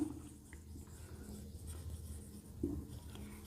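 Marker or chalk writing on a board during a maths lesson, soft faint scratchy strokes in short bursts at close range with a quiet room behind.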